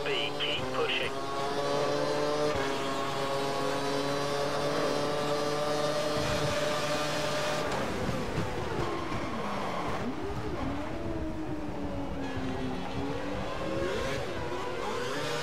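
Formula 1 cars in the F1 2012 racing game at the Hungarian circuit, engines whining steadily at high revs and then sweeping up and down through gear changes, with a voice talking over them.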